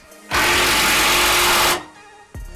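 An impact drill tightening skid plate bolts on a Toyota 4x4, one loud sustained burst of about a second and a half, followed by a short second start at the end.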